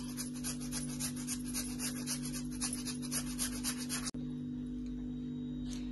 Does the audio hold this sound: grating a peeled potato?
yes